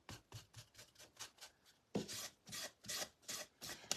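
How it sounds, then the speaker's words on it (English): A baby wipe rubs over a wooden craft piece in quick, rhythmic back-and-forth strokes, faint and close, with a slower, stronger series of scrubbing passes in the second half. "I'm going to use a baby wipe on it this time"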